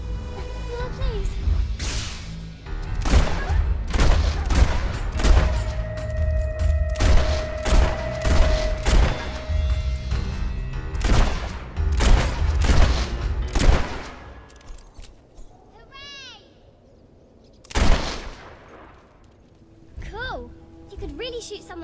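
Gunfire from a weapon comes as a dense series of sharp, loud cracks and booms amid whooshes and talk, thins out toward the end, and closes with one big isolated blast.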